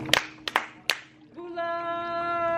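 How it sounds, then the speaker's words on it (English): A small group of people claps hands three times in a loose, slightly uneven rhythm, up close and loud. A steady sustained tone follows as the claps end. "We're gonna clap 3 times."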